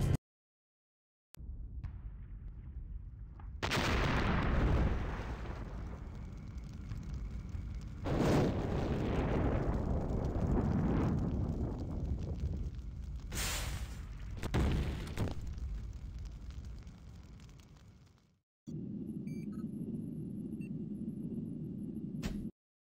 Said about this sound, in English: Internal ammo explosion detected.